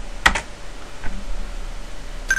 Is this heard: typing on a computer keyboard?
yes